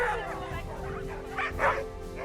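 Sled dogs gathered at a sled dog race in Sweden, yipping and barking in excited bursts close by, with a whimpering edge amid a busy outdoor crowd.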